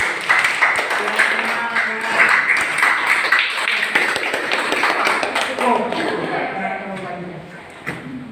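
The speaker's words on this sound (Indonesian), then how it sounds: "Tepuk tangan lagi." A classroom of students claps their hands together, with uneven bursts of sharp claps and taps close by. Voices talk over and between the clapping, and the clapping dies down near the end.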